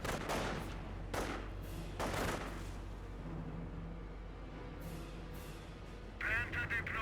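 Gunfire in Company of Heroes 1, with sharp bursts of shots and a few heavier cracks at moderate distance over low battlefield rumble, fading between volleys and picking up again with a brief electronic chirp at the end.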